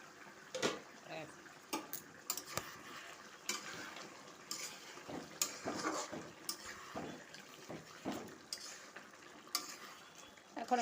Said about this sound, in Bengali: এখন আমি মাংসটা আর একটু নাড়িয়ে নেব।